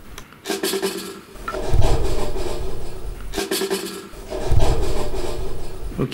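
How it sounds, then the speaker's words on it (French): Rasping, scraping rustles of a dormouse moving about, coming in two longer bursts of scratching and rubbing against wood, close by. "Vraiment, je pense que c'est le Loir."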